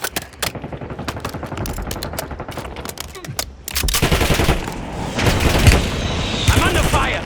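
Loud, rapid automatic gunfire from the Warzone video game, delivered in dense bursts that grow heavier and more continuous in the second half, with booms and clatter mixed in.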